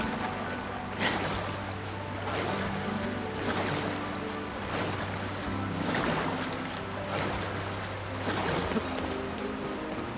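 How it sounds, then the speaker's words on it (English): Waterfalls in the Zelda: Tears of the Kingdom video game, a steady rushing wash of falling water with gentle swells and a soft musical tone beneath, fairly quiet and continuous. "Well, here's two waterfalls."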